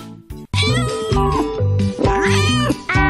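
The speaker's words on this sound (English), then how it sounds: "C for cat." A cat meows in a children's phonics alphabet song, its sound set among bright sung music with layered voices and instruments filling the whole stretch.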